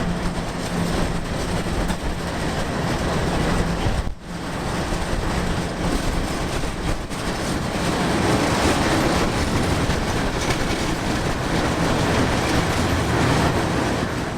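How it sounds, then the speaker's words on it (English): A CSX freight train, the nightly U796 led by locomotive 458 running northbound through Trout River, rumbles past continuously with dense rolling rail noise and wind buffeting, loud and close throughout. "The U796 through Trout River. Locomotive 458 northbound."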